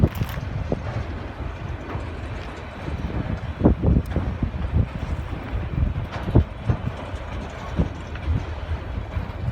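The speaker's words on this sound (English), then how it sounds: "Heading from other way, coming another train." A CSX auto rack freight train passes at a distance with a low rumble and soft intermittent clanks and rattles, mixed with wind buffeting the microphone.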